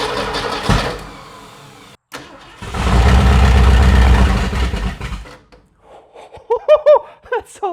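A 1968 Ford Mustang convertible V8 with near-straight pipes cranks, catches and fires up loudly, roaring for a few seconds before dropping off, followed by brief squeaky sounds, close and with no talking.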